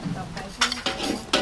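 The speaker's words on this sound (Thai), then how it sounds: "ผัดกระทะต่อไปเลยค่ะลูก" Food being stir-fried in a pan in a home kitchen, with a few scraping strokes of a spatula or spoon against metal over a faint sizzle, close and fairly quiet, with no talk.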